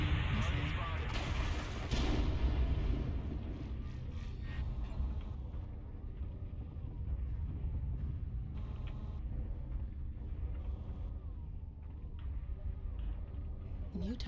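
An incoming missile attack in a video game, with a heavy rumbling blast and roar at the start that fades into a long low rumble, under radio-style voice callouts.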